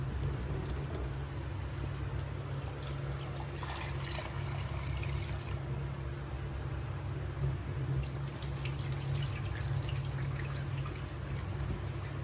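Hot tap water runs steadily into a sink while dry fish is washed, a continuous close splashing stream with faint dripping and trickling, no voices.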